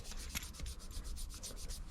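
Rapid rhythmic rubbing as a thin layer of grease is wiped onto the shaft of a Satori Easy-Up, a steady close swishing with repeated strokes and no talking.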